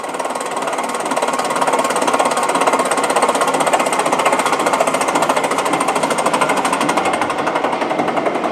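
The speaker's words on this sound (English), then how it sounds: "Starter's in the nose in this one, so the ratcheting sound's coming from right there." A jet aircraft's engine starter in the nose makes a fast, steady mechanical ratcheting clatter that runs on evenly and loudly at close range.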